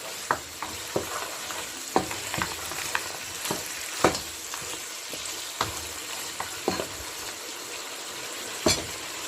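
Masala for aloo gosht fries and is stirred in a pot, with a soft steady sizzle broken by frequent scraping stir strokes, close and moderately quiet with no talk.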